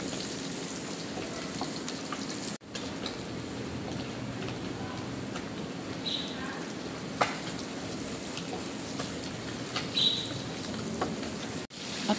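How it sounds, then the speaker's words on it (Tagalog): Garlic and onion sautéing in a pan for adobong pakbet: an even, rain-like sizzle and crackle holding steady throughout, with a couple of brief dropouts and faint clicks, and no talking. "And then ilagay natin ating bawang at sibuyas."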